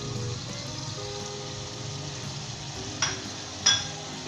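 Spices hiss and sizzle in hot oil over high heat in a pan for a Pakistani chicken and green beans dish, a steady close crackle with two sharper spits near the end and no talking.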